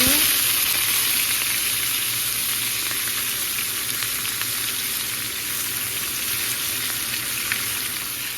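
Cabbage sizzles steadily in a pan after bacon has been fried, a loud, continuous crackling hiss that holds evenly throughout without pause or voices.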